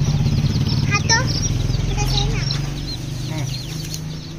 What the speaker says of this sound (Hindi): हमने चूजे वूजे ले लिया,